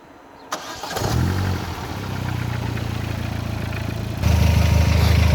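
A car engine cranks and catches, then settles into a steady idle, growing louder toward the end as the revs lift; no talking.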